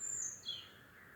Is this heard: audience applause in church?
no